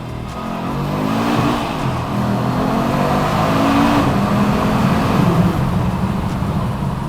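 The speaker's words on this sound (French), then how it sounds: "Le 5 cylindres, on l'entend" An Audi RS3 five-cylinder engine revs steadily and loudly in a tunnel, its low rumble reverberating, sustained throughout with no voices.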